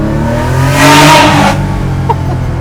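A Porsche 911 Carrera 3.2-litre engine revs up once, swelling to a loud peak and settling back to a steady idle, with a faint short knock near the end.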